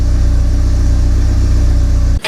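A Porsche 944 Turbo engine with a lean mixture and low vacuum runs close and loud with a steady low pulsing rumble, then cuts off abruptly at the end.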